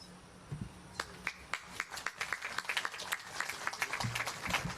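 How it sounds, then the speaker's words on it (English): Audience applause at a political rally in Woodlands, with scattered claps that build into steady, moderately distant clapping and no speech over it. "Thank you for your warm applause."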